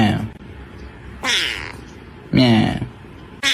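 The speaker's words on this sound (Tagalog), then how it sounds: "Meow." A cat gives two loud, drawn-out meows, each clear and close, separated by a short pause with faint background noise.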